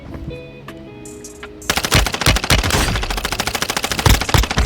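Rapid bursts of automatic gunfire in a video game follow a soft tonal in-game intro, with loud close repeated shots in a fast, sustained rhythm.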